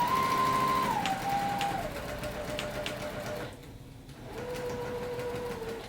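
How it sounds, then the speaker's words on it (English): JUKI sewing machine stitching along a zipper on a laptop sleeve, a steady motor whine that drops in pitch as the machine slows, pauses briefly, then resumes at a lower, even speed. "I want to sew with that foot getting as close to that line as possible."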